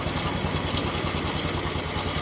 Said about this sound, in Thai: ถ้าหมุนกลับไปขวามือ รอบเราจะเบามากนะครับเบาจนดับนะครับผม